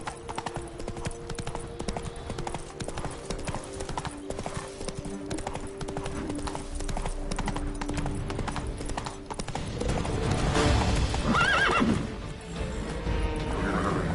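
Roach, the horse in The Witcher 3, clip-clops steadily at a trot and gives a whinny, game music underneath and surroundings swelling louder toward the end.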